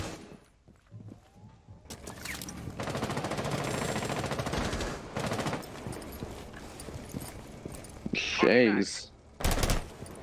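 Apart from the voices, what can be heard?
gunfire exchanged in an esports shooter video game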